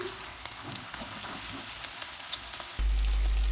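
Two cups of small onions fry in hot oil with bay leaf in a pan for a Tamil egg gravy, giving a steady close sizzle and crackle with occasional stirring, followed by a sudden loud low rumble near the end.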